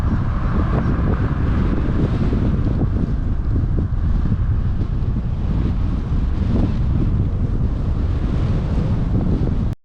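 A strong headwind buffets a cyclist on a bike tour from Leesburg to St Petersburg, Florida, a loud continuous roaring rumble of wind against the microphone that cuts off abruptly at the end.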